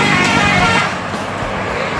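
An NPM intercity bus heading toward Jakarta, heard from a distance as a steady broadband road rumble with a faint horn-like tone amid traffic noise and someone talking over it.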